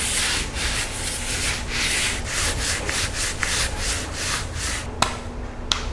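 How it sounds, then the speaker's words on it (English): Steady back-and-forth scraping of sandpaper on drywall mud on a ceiling, rhythmic strokes close by with a couple of small knocks near the end, no talking. "So the purpose of sanding down the mud is to get a flat surface"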